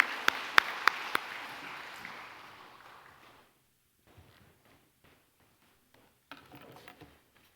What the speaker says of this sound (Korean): 다시 한번 환영의 박수 해주시기 바랍니다.